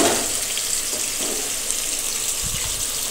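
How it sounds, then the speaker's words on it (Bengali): Boal fish sizzling in hot oil, a steady bright hiss of frying that runs throughout, close and moderately loud, with a few soft knocks near the end. "তেলটা কিন্তু খুব সুন্দর করে আমি গরম করে নিয়ে নিয়েছি। এবার আমি মাছটা অ্যাড করে দিয়ে দেব। দিয়ে দিলাম মাছ।"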